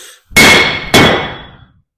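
A blacksmith's hammer strikes an anvil twice, about half a second apart, each blow a loud, close, bright metallic ring that fades slowly afterward, with no talk.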